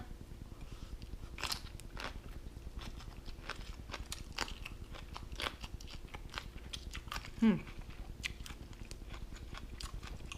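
Someone eats rice with fried fermented fish, with crisp bites and steady chewing close by, irregular crunches and mouth sounds spread across the stretch, and a brief louder bite near the end.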